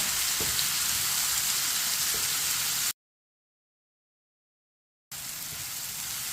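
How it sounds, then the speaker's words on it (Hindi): Finely chopped tomatoes fry in a pan for an egg and bitter gourd dish, giving a steady, close sizzle that cuts to silence midway and then resumes. "टमाटर को भी 2 मिनट के लिए पका लेंगे"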